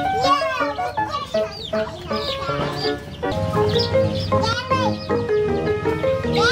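A cartoon hen clucks in a children's animal puzzle game, mixed with bright game music and chirpy sound effects, with children's voices talking over it.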